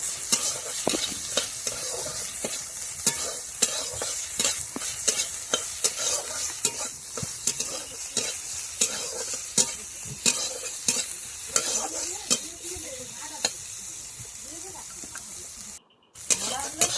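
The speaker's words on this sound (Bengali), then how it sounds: "এরপরে কড়াইতে ওই তেলেই উচ্ছে দেব, উচ্ছেটা দিয়ে দিলাম।" Bitter gourd frying in oil in a wok makes a constant bright sizzle, punctuated by many sharp scraping knocks of a spatula stirring at a quick, uneven rhythm.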